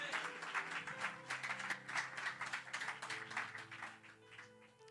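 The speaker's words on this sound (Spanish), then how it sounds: "¿Cuántos pueden aplaudir a Dios por eso?" Church congregation applauding during a Spanish-language sermon, a steady wash of clapping under a low sustained organ or keyboard chord, moderately distant.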